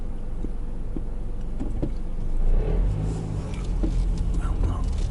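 A car drives past on a street by a gurdwara in Brampton, Canada, its engine swelling to a brief peak midway and then easing off, while someone talks over it.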